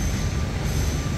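A metro train runs through an underground station at Farrer Park in Singapore, making a loud, steady low rumble with faint wheel noise. No one speaks.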